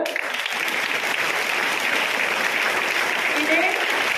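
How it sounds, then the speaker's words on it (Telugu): An audience at a commemoration of Gidugu Venkata Ramamurthy's 160th birth anniversary breaks into loud, sustained applause that fills the hall evenly, with the clapping holding steady for several seconds. "అందరు గట్టిగా క్లాప్స్ కొట్టాలి"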